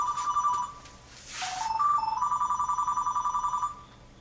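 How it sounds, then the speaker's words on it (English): A mobile phone ringtone goes off in a lecture room, a bright repeating electronic melody that pauses briefly and then resumes in a fast pulsing pattern, clear and moderately loud, with no talking. "Please pardon my phone, I forgot to turn it off."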